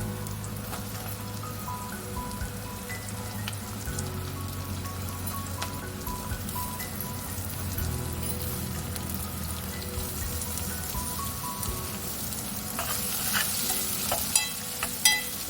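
Spiny gourd pieces fry in plenty of oil with onions, a steady close crackling sizzle with stirring scrapes throughout, brightening near the end.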